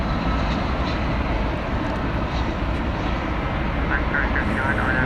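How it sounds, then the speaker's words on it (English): An Airbus A320 airliner at Dallas Fort Worth Airport produces a steady, loud jet roar that fills the whole stretch without letup. "It's an Airbus A320, flight 2531, I believe, going to a destination which I shall enumerate shortly."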